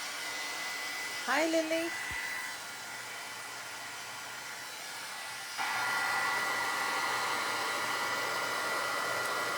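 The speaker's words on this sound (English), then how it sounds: "let's heat emboss that and see what we've got" Heat embossing gun blowing hot air over a stenciled craft piece with oxide inks, a steady close whoosh that continues after a brief spoken greeting and grows louder partway through.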